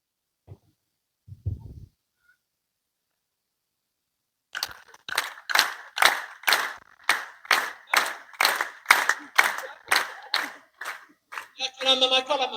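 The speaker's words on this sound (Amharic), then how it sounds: "እሺ፣ እንደኔ አጨብጭቡ።" An audience in an Orthodox church claps hands in a steady, even rhythm of about a dozen sharp claps after a short spoken prompt and a stretch of silence, ending in a brief burst of more scattered clapping.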